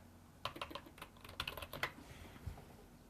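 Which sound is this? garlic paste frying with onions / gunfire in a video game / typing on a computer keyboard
typing on a computer keyboard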